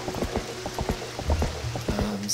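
Rain falls in The Legend of Zelda: Twilight Princess during a wagon escort, a soft patter of drops mixed with clopping hoofbeats and low rumbling, with no voices.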